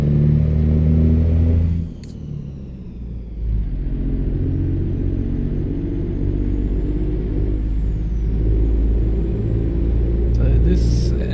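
A Kenworth K100E cabover truck engine with a modded engine sound in American Truck Simulator, a loud continuous low diesel rumble with a brief air-brake hiss and shifts in pitch, while someone talks over it.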